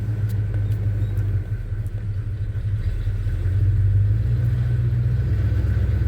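A 1962 Chevy C10 pickup truck engine idles and rumbles steadily while backing up, a low, loud continuous drone that swells slightly partway through, with no talking.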